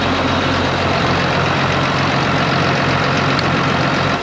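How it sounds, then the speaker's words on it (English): A Massey Ferguson 3690 tractor idles while warming up in a shed before dyno testing, making a loud, close, steady diesel rumble with a dense, even roar and no break across the whole stretch. "so tractors are warming up there, and they're just getting ready in the shed there to start dyno testing."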